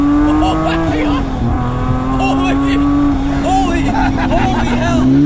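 A 500HP rear-wheel-drive luxury Mini accelerates hard, its engine holding a loud, sustained drone heard from inside the car alongside road and tire noise.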